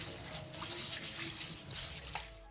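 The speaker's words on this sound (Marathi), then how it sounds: "आता आपण या साबुदाण्याला धुवून घेणार आहोत" Sago pearls being washed in water in a kitchen for a fasting-day snack: soft, close sloshing and trickling of water with light splashes, quiet and continuous, without talk.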